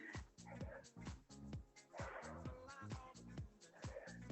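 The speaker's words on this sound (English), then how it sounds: "There's my dog, Scooper Pooper, picker-upper." Dog barks and whimpers in a home during a stability ball workout, repeated sharp yelps in a steady rhythm throughout, fairly close, with a faint voice in the background.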